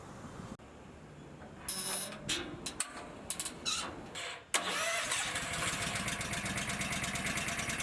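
A Honda engine on a sealant spraying machine cranks and catches after a few short pulls, then settles into a steady, loud running drone alongside a compressor.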